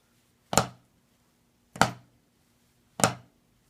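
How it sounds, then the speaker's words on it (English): Three evenly spaced drum flams, each a soft grace note smeared into a louder principal stroke, close and sharp, with quiet pauses between hits and no talk. "So flam would just sound like this."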